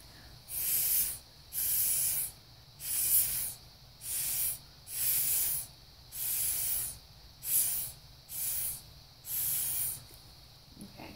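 A spray bottle fires about ten regular hissing bursts onto an acrylic pour painting, each roughly half a second long, close by and separated by short pauses.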